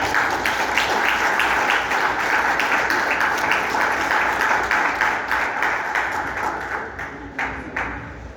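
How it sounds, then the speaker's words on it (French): Audience applause for the president of an electricity workers' union at a meeting, a full round of clapping that thins into scattered individual claps toward the end. "Je vous demande de l'applaudir."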